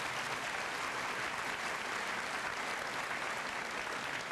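Steady applause from a school senior assembly audience clapping for staff on stage, a dense continuous wash of many hands at moderate distance with no voices standing out.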